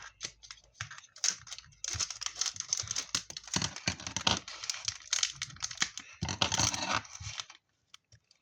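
A Bebeto jelly candy packet cut open with scissors, a busy run of close crinkling plastic and sharp snips and rustles for several seconds before falling quiet.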